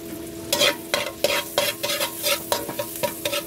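Garlic frying in melted butter in a pan, sizzling steadily while a utensil scrapes and stirs in a quick repeating rhythm, close and fairly loud with no voices.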